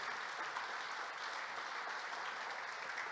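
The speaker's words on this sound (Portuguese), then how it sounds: "dá um aplauso a Jesus" A church congregation applauds during a sermon, a dense, even roar of many hands clapping, fairly faint and distant, with no voices over it.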